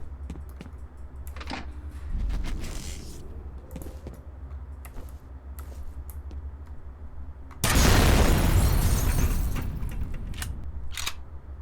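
Shooting at objects in the shooter game F.E.A.R.: scattered sharp clicks and shots, a rumbling blast, then a loud crashing burst of noise that slowly fades.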